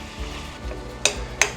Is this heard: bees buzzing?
no